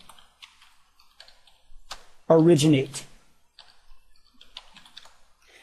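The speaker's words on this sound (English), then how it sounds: "We do that by typing in the command" Light, rapid keystrokes tap on a computer keyboard as a router configuration command is typed, with a brief spoken word in the middle.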